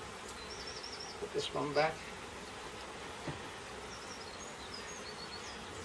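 Honey bees buzz around an opened beehive while it is inspected for the queen during a swarm problem, a steady insect hum under close talk and brief handling noises.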